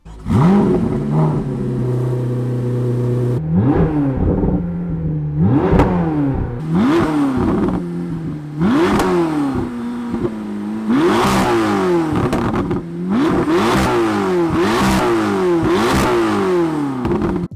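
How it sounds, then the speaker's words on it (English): A powerful twin-turbo V8 engine revs repeatedly, each blip rising sharply and falling back, loud and close with a burbling idle between pulls. "it sounds like a twin-turbo V8 McLaren"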